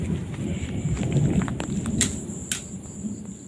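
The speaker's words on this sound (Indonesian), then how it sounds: "suara gemuruh teh sudah mulai terdengar" Thunder rumbling over rural West Java, a low continuous roll with rain patter and a few sharp cracks or taps, moderately loud and without talking.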